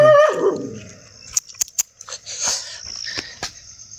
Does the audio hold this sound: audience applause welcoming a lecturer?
no